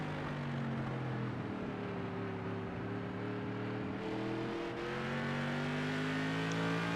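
Race car engine on the throttle at Martinsville, a modified of the Thunderstruck Tour, holding a steady loud drone with rising pitch as it accelerates, near and continuous without any voices.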